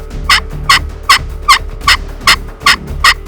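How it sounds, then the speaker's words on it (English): A Merriam's wild turkey tom, seen strutting at about 7,200 feet, gives eight evenly spaced loud, close bursts of gobbling in a steady rhythm, with no voices. "Melissa waits for it to gobble and stretch its head out for a shot"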